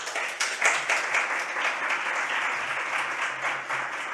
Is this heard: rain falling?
no